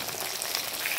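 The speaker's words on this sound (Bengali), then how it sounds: "লো ফ্লেমে দিয়ে ভাজতে হবে।" Taro stems frying in hot oil over a low flame, a steady soft sizzle and crackle with no talk.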